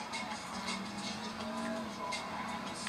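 A car driving in the video game GTA 5, with steady engine drone and road noise running throughout, faint occasional tire squeal, no talk.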